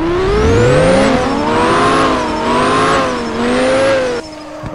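Drag car engine in Hashiriya Drifter, a loud sustained rev that rises and dips in pitch through gear changes, with a tire-squeal edge before cutting off near the end.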